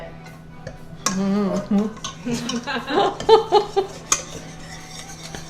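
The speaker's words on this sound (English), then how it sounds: "you want to turn that whisk around and scrape the side of the pan" A metal whisk clinks and scrapes against the side of a pan as a batter for village-style panelli is stirred. The scrapes come in uneven bursts, with a person's voice briefly heard over the stirring.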